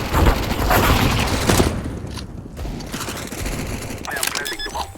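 Grenade blast in the video game Warzone, a loud burst of booming explosive rumble with mechanical clatter fading out, followed by faint gunfire and game sounds.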